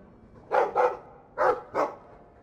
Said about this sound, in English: I like the doggy.